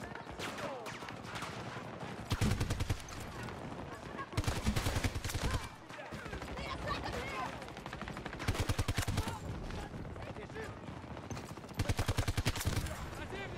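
Rapid bursts of RM68 rifle hip-fire in Battlefield 2042, loud close volleys of automatic gunshots in several separate strings, with someone talking between and over them.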